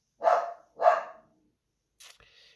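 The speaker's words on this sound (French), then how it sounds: "j'ai mon chien qui aboie" A dog barks twice close by, loud and sharp and about half a second apart, followed by a fainter brief sound in an otherwise quiet room.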